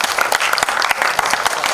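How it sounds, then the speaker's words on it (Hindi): Audience clapping at an album launch event, a dense, loud burst of applause from a crowd in a hall, close and sustained for under two seconds. "प्लीज जोर से तालियां हो जाए।"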